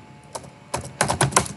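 Keys clatter on a computer keyboard as C++ code is typed, a few scattered taps followed by a quicker burst of close, crisp keystrokes.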